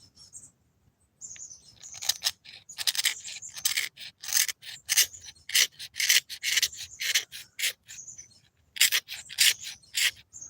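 A file rasps against a piece of green soapstone being carved into a frog, in bursts of quick, close, gritty strokes separated by short pauses. No one speaks.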